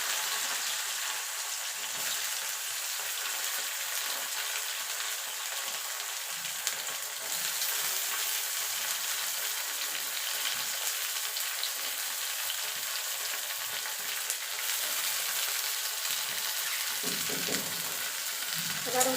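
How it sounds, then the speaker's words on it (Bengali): Bitter gourd frying in oil on top of a nigella seed tempering: a continuous, close, crackling sizzle that holds steady throughout, with occasional soft stirring noises and a louder stir near the end. "এবার উচ্ছেটাকে একটুখানি ভাজা ভাজা করে নেব।"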